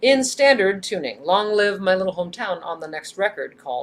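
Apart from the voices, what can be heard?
None of the usual background noises is heard.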